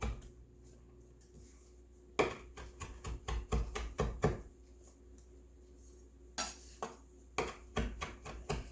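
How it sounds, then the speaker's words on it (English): Knife chopping onions and parsley on a cutting board in a home kitchen, bursts of sharp close taps in quick uneven runs separated by quieter pauses, with faint clinks of dishes and no talk. "So I'm chopping these up good."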